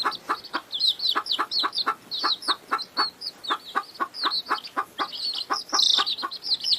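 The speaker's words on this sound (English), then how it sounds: "the mother hen takes them out to graze on the grass" A mother hen leading her chicks out to graze on grass clucks in a steady, rapid rhythm, with high chirps from the chicks close by.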